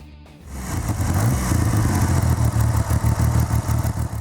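BSA Rocket 3 motorcycle engine running loud and close, a steady deep roar with rapid rhythmic pulsing that builds after a brief quieter start, with no voices.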